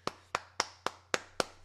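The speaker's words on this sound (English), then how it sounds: "this is the official applauding moment for the kid actor" Six sharp, evenly spaced hand claps in steady rhythm, close and crisp, applauding a child actor's crying scene in The Santa Clause, with no talking over them.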